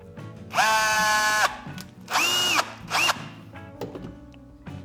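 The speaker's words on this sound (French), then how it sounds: "je vais tout simplement percer" A power drill bores into wood beside a hinge in a workshop, giving three close, loud whining bursts: a long one, then two shorter ones, each cutting off sharply.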